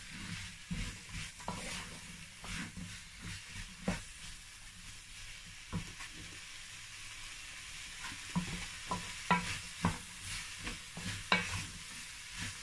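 Vegetables fry and sizzle in a pan for vegetable rice with turkey, a steady hiss broken by repeated scraping stirs and clinks at an irregular pace, close and moderately quiet, with no voices.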